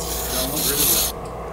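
Sandpaper, 180 to 400 grit, rubs against a wooden Christmas tree ornament being turned, giving a steady, close rasping for about a second before it cuts off.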